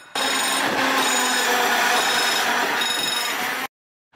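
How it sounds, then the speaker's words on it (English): A telephone bell rings steadily for about three and a half seconds, bright and close, then stops abruptly, heard on a railway platform in Portugal. "Someone's on the phone. Ring, ring, ring,"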